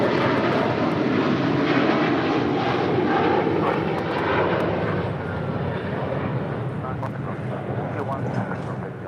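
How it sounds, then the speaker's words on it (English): An Eva Air Cargo Boeing 777 freighter departs from LAX with a loud, steady, broadband jet roar that slowly eases over several seconds, a voice faintly present beneath it. "That is Eva Air Cargo 609 departing to Taipei on a 777 freighter"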